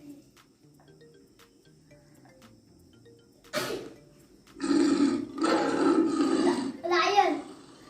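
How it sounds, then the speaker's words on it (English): A lion's roar played as a recorded animal sound for a classroom quiz: a loud, rough, drawn-out roar in several surging bursts after a quiet start with a short sharp sound. "Lion roar."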